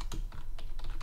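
Quick typing on a computer keyboard while entering a block name in Scratch, a handful of close, crisp key clicks in a loose irregular rhythm, moderately loud, with no voices over it.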